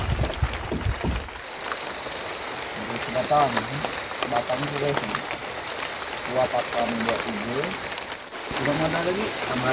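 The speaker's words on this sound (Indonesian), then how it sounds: "Jadi harinya hujan lagi." Steady rain falls on a shelter hut, a constant wash of patter heard throughout while people talk over it.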